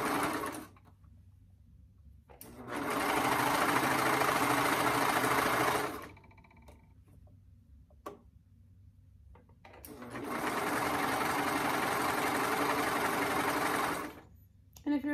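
A sewing machine stitches a 1/2 inch hem on a trouser leg, starting at the inner seam, running in two long steady bursts separated by a pause, loud and close.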